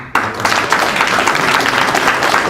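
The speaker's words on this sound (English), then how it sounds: "all y'all deserve a round of applause for being here" A live audience bursts into applause at once, a short dense wash of clapping that stays loud and even for a couple of seconds.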